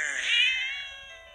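A cat gives a single clear meow, rising then trailing off, close and fairly loud against a quiet background.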